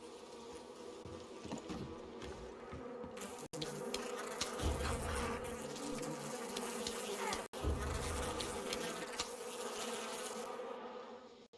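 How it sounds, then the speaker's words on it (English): A dense swarm of bees buzzes steadily and loudly in the video game Far Cry 5, a continuous droning hum lasting throughout with no talk. "Oh, that's a lot of bees."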